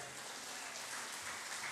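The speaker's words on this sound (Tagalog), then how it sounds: "Palakpak naman dyan." Faint, distant applause from a church congregation welcoming a brother during an Ilocano preaching service, a soft, even patter of clapping throughout.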